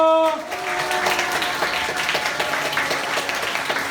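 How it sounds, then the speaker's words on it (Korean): A church youth congregation at a Sunday service breaking into enthusiastic applause, dense sustained clapping with some cheering after a brief tone, filling the room steadily. "내가 할 수 있는 최고의 박수와 함성을 다해서 이 사람들 축하해 줍시다."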